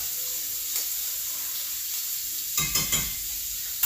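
Shrimp frying in a pan, a steady hiss of hot fat that runs close and continuous, with a short burst of louder sizzling and three quick utensil taps near the end as pieces are moved.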